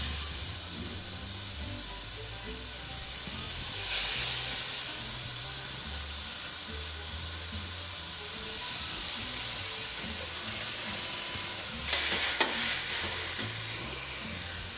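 Fresh tomatoes hitting warm garlic in a pan for pomodoro sauce: a loud, continuous sizzle and hiss with stirring scrapes, briefly flaring louder twice, no talk.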